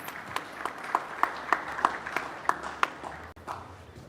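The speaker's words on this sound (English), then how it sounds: "a big round of applause for this wonderful panel." Audience at an infrastructure awards event applauding a discussion panel, a thin, sparse patter of claps with a few distinct sharp hits standing out, moderately faint and fading near the end.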